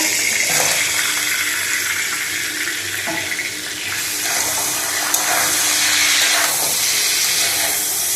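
Crabs dropped into hot oil in a kadai, a loud continuous sizzling hiss that swells and settles as they fry, close up with no talking.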